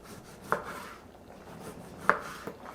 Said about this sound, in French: je peux en profiter pour venir couper mes limes.